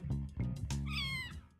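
A cat meows repeatedly in the No More Heroes video game, several close, drawn-out calls with one rising, whiny cry near the middle. No one speaks over it.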